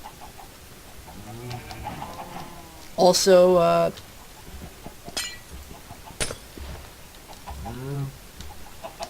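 Chickens on a farm in the video game Minecraft give a few short clucks and a louder squawk, scattered under someone talking over the game.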